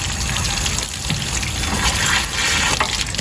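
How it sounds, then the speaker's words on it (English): Water rushes steadily out while an RV water system is drained, carrying a little debris, a loud continuous gush with no pauses and no voices. "So I get a little rush of water, still a little bit more debris."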